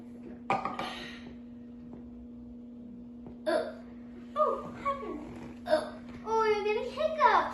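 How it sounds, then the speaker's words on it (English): A child hiccups several times indoors, each short sharp catch separated by pauses, with brief voices and light kitchen clatter around them. "Oh, you're getting hiccups."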